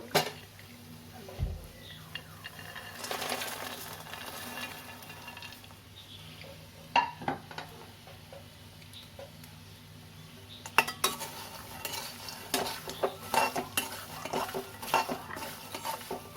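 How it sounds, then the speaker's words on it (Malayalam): Peanuts stirred in a pan for spicy bakery-style masala roasting, with steady scraping and clinking of a utensil against the metal pan and a faint sizzle, in irregular bursts that grow busier toward the end. "നമുക്കിനി ഇതിലോട്ട് കപ്പലണ്ടി ഇടാം."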